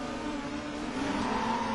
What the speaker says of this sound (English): here we are now getting ready for the race start. Revs are rising.